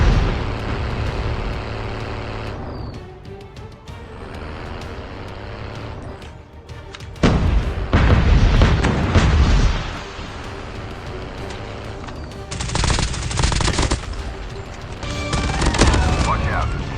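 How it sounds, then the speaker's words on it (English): Explosions and gunfire in Call of Duty Mobile, including flashbang grenades: loud bursts and booms over a dense bed of game noise, with several strong blasts in the middle and end of the stretch. "Flashbang grenade. Proceed with caution."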